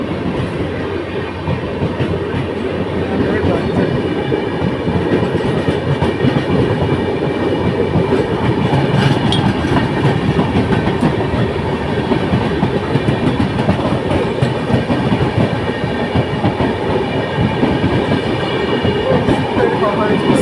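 The Vivek Superfast Express runs loud and close on the rails in India, with a continuous rumble and rapid wheel clatter that hold steady throughout.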